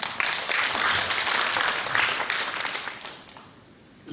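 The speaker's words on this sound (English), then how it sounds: "Let's give you another round of applause." A conference audience at a leadership panel discussion claps in a loud, dense round of applause that holds steady, then tapers off toward the end.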